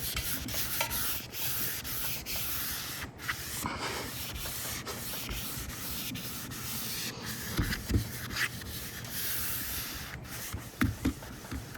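A soapy walnut scrub pad rubs steadily across a window pane outdoors in hot sun, a continuous close, wet scouring hiss with brief pauses and strokes over nearly twelve seconds.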